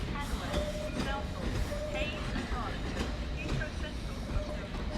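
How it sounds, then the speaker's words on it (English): A London Underground tube train, not in service, rumbles into Ealing Broadway station with a steady rolling roar and wheel clatter close by, while a voice talks over it. "might as well call this tube train coming in"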